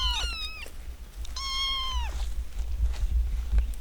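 Cats on an off-grid homestead meow twice, short rising-falling calls close by, over a low rumbling background with no talk.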